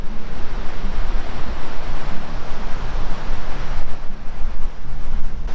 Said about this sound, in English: have a look at how close we are to the ocean.